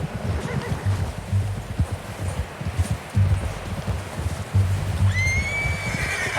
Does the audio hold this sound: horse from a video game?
yes